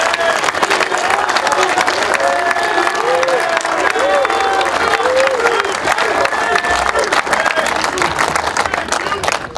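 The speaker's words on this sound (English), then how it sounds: "Let's give a round of applause for Caden Quirk." An outdoor crowd at a pavilion ribbon cutting claps and cheers for a speaker named Caden Quirk, loud and continuous applause with scattered whoops and voices throughout.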